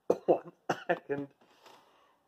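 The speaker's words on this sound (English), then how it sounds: "So that's what they call a dry cough, an unproductive cough." A sick person's dry, unproductive cough: about five sharp, close coughs in quick succession, then a trailing rasp of breath that fades out.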